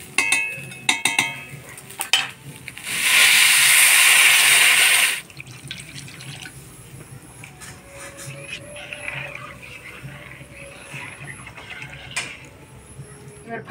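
Water pours into a pot of fried rice and lentils for egg khichuri, a loud steady gush lasting about two seconds, followed by quieter clinks and stirring sounds.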